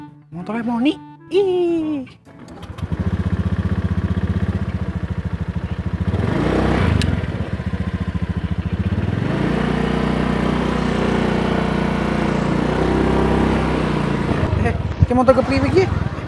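A motorcycle engine turns over after a few seconds of talk, then runs at a steady, fairly loud idle drone for most of the clip before voices return near the end.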